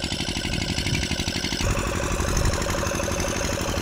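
A tractor at a well-blasting site runs with a steady, pulsing mechanical knock close by, its rhythm shifting partway through into a smoother, higher drone that continues to the end.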